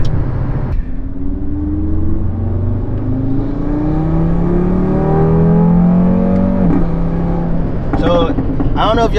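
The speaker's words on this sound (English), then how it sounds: "I hope you guys can hear the spool." Turbocharged Audi DAZA engine with a custom aluminum intake pipe, revving up through rising sweeps with turbo spool whine, steady and close, with a sharper burst of revs near the end.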